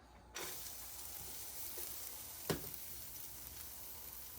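Steady broadband sizzle of shallots frying in hot sesame oil, constant and close, with a brief clink partway through.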